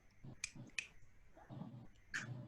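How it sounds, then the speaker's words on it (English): Three sharp finger snaps made with the left hand, spaced unevenly and fairly quiet, separated by soft low thumps and murmurs between them. "I can only snap with my left hand"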